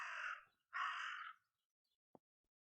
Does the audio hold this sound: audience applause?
no